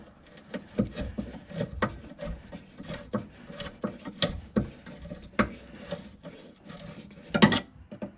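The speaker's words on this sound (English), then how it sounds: "I'm gonna tighten the clamp back up." Hose clamp being tightened on the fuel filter of a 1994-2004 Ford Mustang, giving a string of close, quiet ratcheting clicks and scraping mechanical rubs in irregular bursts throughout.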